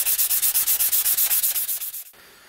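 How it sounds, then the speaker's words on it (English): Sandpaper rubs back and forth on an SU carburettor part in fast, even strokes, loud and close, easing off near the end with no voices. "So I'm just going to start sanding down all the different spots."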